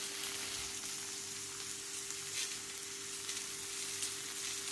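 Curry leaves dropped into hot oil with onion, ginger and garlic give a soft, steady sizzle, faint and continuous with no talk.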